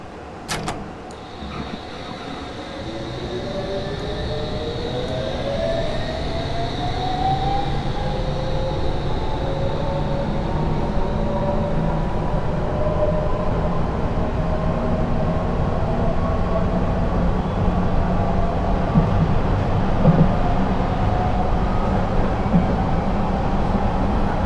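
A Metropolitan Line S7+1 stock train in Train Simulator 2020 accelerates, its traction motors whining upward in rising tones over a steady rolling rumble of wheels on track, loud and continuous throughout.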